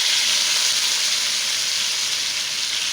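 Potato slices fry in a small pan with a steady, bright, close sizzle and hiss that holds evenly throughout.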